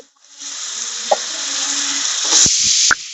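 Cut potatoes drop into a hot pan of navaratna curry, setting off a steady close sizzle with a few sharp knocks and clatters near the end, no voices heard.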